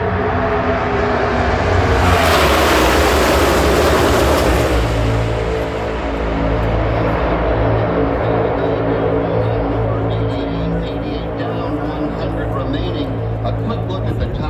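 NASCAR Cup cars run side by side at Talladega Super Speedway at about 185 mph, a huge roaring pack sweeping past loud and close before fading into a steady engine drone, heard in person with an announcer talking over it.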